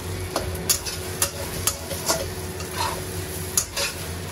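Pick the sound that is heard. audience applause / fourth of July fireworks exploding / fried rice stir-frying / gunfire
fried rice stir-frying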